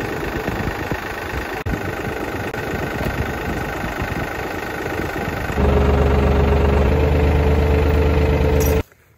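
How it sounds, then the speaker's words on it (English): A steady diesel tractor engine chugs nearby at a constant idle, then grows louder and rougher before cutting off abruptly at the end. "Taking his tractor out for a walk."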